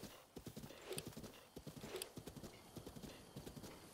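A horse's hooves clip-clop in a steady galloping rhythm in the video game Breath of the Wild, close and clear, with a brief whinny.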